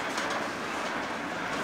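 A CSX freight train passes close by, a continuous loud rumble with rolling wheel noise and faint clatter over the rails.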